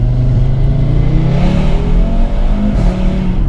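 A 2018 Audi RS3 with a 510 BHP engine revs hard and very loudly, its note climbing and holding in sustained bursts, close by with no talk.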